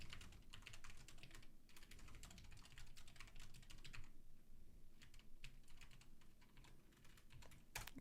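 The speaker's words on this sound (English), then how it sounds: "let's just type it in here" Rapid, steady typing on a computer keyboard, close and fairly loud, with dense clusters of key clicks and a brief pause near the middle, no talking.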